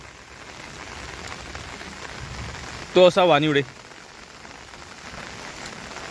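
Unseasonal heavy rain pours over Sindhudurg in the Konkan region, a steady dense patter throughout, with someone speaking briefly partway through.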